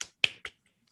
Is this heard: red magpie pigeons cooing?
no